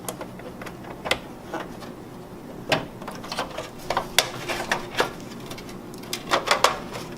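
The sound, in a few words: reclipping a wire connector inside an Xbox One case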